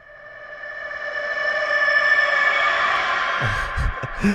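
A reversed reverb of a rooster crow swells gradually from silence into a sustained, breathy tonal wash, then breaks into a few low throbbing pulses at the end.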